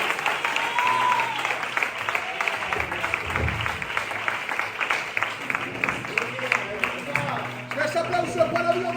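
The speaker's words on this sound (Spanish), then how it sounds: "¡Ese aplauso para Dios más fuerte" Church congregation clapping together in a steady wash of applause, with voices calling out and talk over it throughout.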